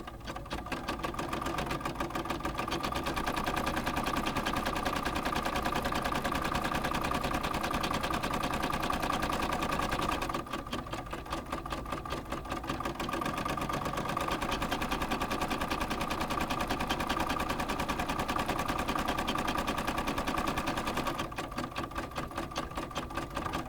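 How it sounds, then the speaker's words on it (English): An embroidery machine in a size 7 hoop stitches out buttonholes on the right side of fabric for a reverse applique treat bag, a steady rapid mechanical whir with a constant rhythm that runs loud throughout, with brief shifts around the middle. "Now we're stitching out the buttonholes"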